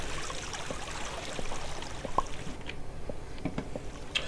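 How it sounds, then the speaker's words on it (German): Flowing water in the blocky sandbox game Minetest, a soft continuous trickling stream with scattered small drips and splashes at moderate level. "ich sammle erstmal das Wasser hier wieder ein"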